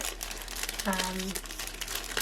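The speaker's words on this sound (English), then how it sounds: "Sorry if this is loud, guys. This is in like a little plastic bag." Crinkling of a small plastic bag holding a tarot card, a close, continuous rustle alongside a brief tonal hum in the background.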